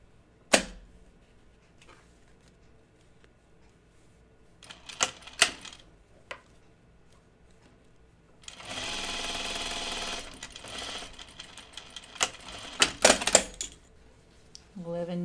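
A sewing machine backstitches through fabric while a bodice block with a large side dart is sewn, with a sustained mechanical whir of a few seconds' stitching set among scattered clicks and handling knocks.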